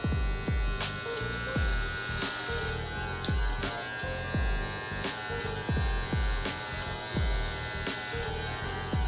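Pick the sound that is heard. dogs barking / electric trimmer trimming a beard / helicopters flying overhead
electric trimmer trimming a beard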